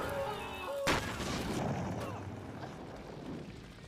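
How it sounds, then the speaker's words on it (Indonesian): An explosion goes off outside a room, one sudden loud boom followed by a long rumbling decay and debris-like crackle, preceded by a thin tonal hum. "Mendengar ledakan dari luar ruangan"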